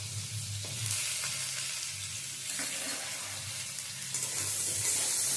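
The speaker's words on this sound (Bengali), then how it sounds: "পটল দিয়েও আবারও কিছুক্ষণ ভেজে নেব" Chopped pointed gourd sizzles in oil along with pumpkin and potato pieces for a Bengali chorchori, a continuous close frying hiss with occasional stirring scrapes and no voices.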